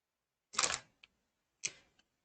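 Two crisp, close mouse clicks on a computer settings gear icon, each press followed by a faint lighter release tick, separated by about a second of near silence with no voices.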